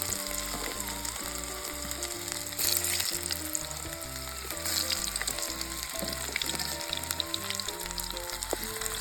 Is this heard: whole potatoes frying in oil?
yes